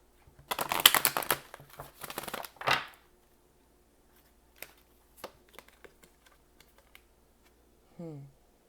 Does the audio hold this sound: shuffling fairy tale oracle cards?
yes